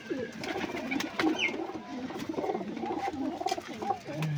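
A pair of pigeons coo close by in soft, repeated low calls, with faint handling noise in the background.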